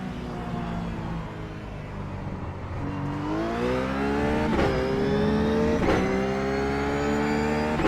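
A Ruf GT3 race car engine at Monza in iRacing, heard from the cockpit climbing through the revs with sharp upshift breaks, a loud, steady rising whine between gear changes.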